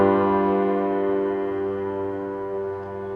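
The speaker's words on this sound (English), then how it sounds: "the chord that's built on the fifth step of the scale" A single sustained dominant chord built on the fifth step of the scale rings out alone, rich in harmonics, and slowly fades over a few seconds with no other sound.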